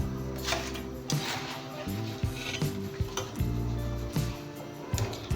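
Plantain slices frying in hot oil over a high flame for traditional Kerala banana chips: a steady sizzling hiss with scattered clinks of a metal utensil against the pan throughout.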